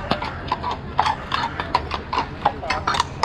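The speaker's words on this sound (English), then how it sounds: "Oh, I got some horses coming through." Horses clip-clopping through a courtyard in Istanbul, a steady run of close, hollow hoof beats in a brisk rhythm.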